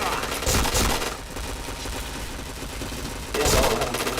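Gunfire from the Point Blank online shooter, bursts of rapid shots crackling loudly at the start and again near the end, with a busy noisy bed of game sound in between.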